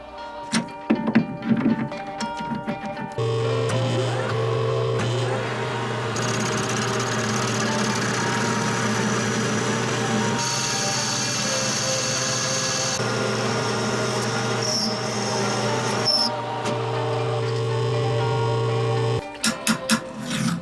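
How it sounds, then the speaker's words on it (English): A lathe works hard cutting steel, taking a light pass while building a mini 4WD trophy truck. A steady loud machining drone with tonal whine runs for most of the stretch, bracketed by brief knocks and clatter at start and end. "you can tell the lathe is kind of working pretty hard to take a little bit of material off"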